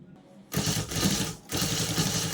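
A sewing machine stitches piping cloth in two loud, close bursts of fast whirring, with a short pause between them.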